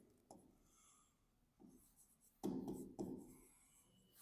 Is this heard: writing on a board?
yes